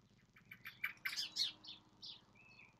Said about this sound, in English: That's a blackbird.